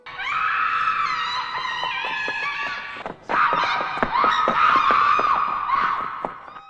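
A woman screams in a period drama set in a wealthy household: a long, high, sustained cry that breaks off briefly, then resumes with renewed force and holds until it fades near the end.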